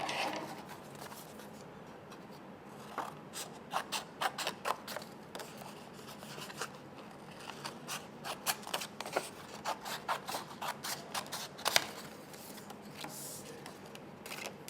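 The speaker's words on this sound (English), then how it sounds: "I'm going to cut them out." Scissors snipping through sheets of paper folded in half to make strips, giving a quiet, close series of short crisp cuts in irregular bursts over a faint background hiss.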